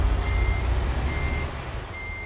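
A truck backing up on a drive around Idaho sounds its reversing alarm, a repeating high electronic beep at slow, even intervals over a low, steady engine rumble.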